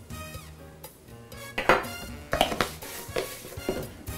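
A spoon stirs cornstarch into teriyaki sauce, giving close, irregular clinks and scrapes against the dish in quick clusters over a low background.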